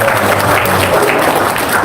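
An audience bursts into loud, continuous applause, a thick unbroken wash of clapping heard close and alone for its brief length.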